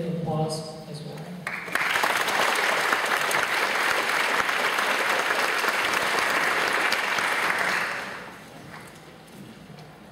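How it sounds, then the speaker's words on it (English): Loud, dense applause from a graduation ceremony audience, starting abruptly after a voice and holding steady for about six seconds before fading out. "even your kids who mentally, physically, financially stand behind and support you deserve a big applause as well"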